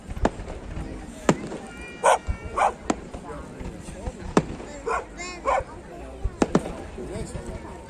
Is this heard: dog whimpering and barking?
yes